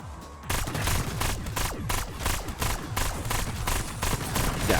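Rapid full-auto fire from a TR2 rifle in Black Ops 6 Zombies, a dense, loud stream of shots in quick bursts after a brief quiet start, continuing almost without pause.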